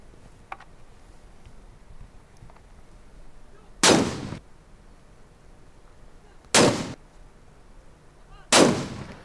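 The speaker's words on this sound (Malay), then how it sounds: "Telah menjadi tradisi di negara Brunei Darussalam 1 Syawal disambut dengan 12 das tembakan meriam." Ceremonial cannon salute fired in Brunei for 1 Syawal at Taman Haji Sumbiling, three loud booming shots spaced a few seconds apart, each with a short rumbling tail over quiet outdoor background.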